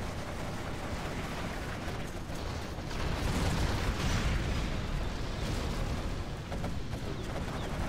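Artillery shells burst in the real-time strategy game Generals Zero Hour, making a continuous rumbling barrage of heavy explosions. The blasts swell louder partway through and stay dense and booming to the end.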